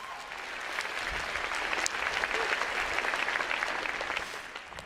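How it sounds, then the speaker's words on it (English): An audience claps loudly and steadily for several seconds at a b-boy breaking event, a dense wash of applause that swells and then slowly tapers. "Make some noise for Frosty Freeze, rest in peace."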